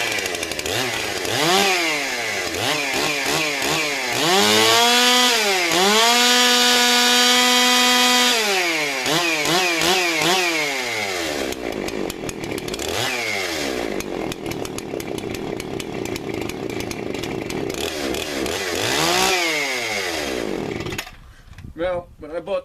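Husqvarna 288 chainsaw, a warm saw salvaged after over a decade of non-use, fires up and runs, its engine revving up and down in repeated loud swells, holding a steady high whine, then dropping to a choppy idle near the end.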